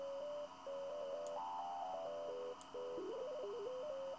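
A steady synth tone from ZynAddSubFX, modulated by an LFO, steps up and down in pitch, switching between levels in a choppy pattern, with a faint hum underneath and brief gaps.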